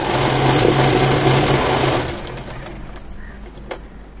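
A sewing machine stitches a Punjabi dress bottom with a loud, fast, steady hum for about two seconds, then stops, leaving quieter handling noises.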